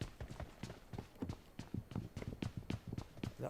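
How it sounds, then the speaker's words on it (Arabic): Footsteps of a player character in a video game: rapid, steady running steps, close and even, with faint voices under them. "لا هذا صوت رجليك."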